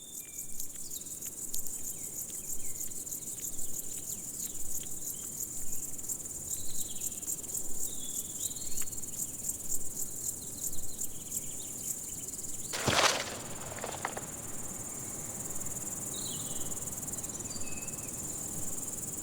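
Grasshopper chirring in a peat bog: a steady high-pitched insect buzz runs through, joined by a few faint bird calls and a short rustling burst near the end, fairly close and continuous with no talk.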